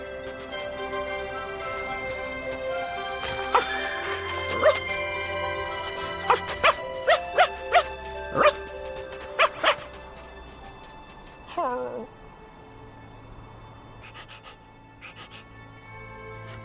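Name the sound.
dog barking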